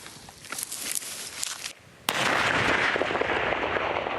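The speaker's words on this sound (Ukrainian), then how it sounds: "Увага, вибух." A sharp, loud blast from a controlled demolition in Ukraine breaks a steady outdoor hiss, followed by a broad, sustained roar of debris and rumble that continues to the end.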